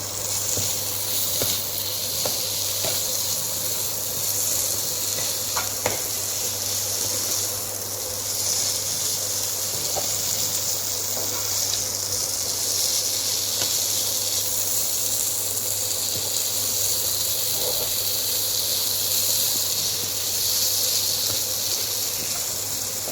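Sliced egg, onion and tomato dry-roasting in a pan for egg chukka, a steady close sizzle with soft crackles running unbroken and alone.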